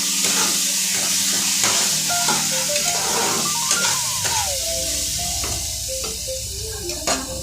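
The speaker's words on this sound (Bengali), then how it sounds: "আমি আলু পটলটা দিয়ে দেবো।" Potatoes and pointed gourd are added to a hot pan for a katla fish curry, setting off loud, continuous sizzling and frying hiss with clatter from stirring, steady throughout.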